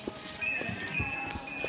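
Horse hooves clip-clop in an uneven rhythm along the mountain pilgrimage path to Vaishno Devi near Katra, moderately close with light background murmur throughout.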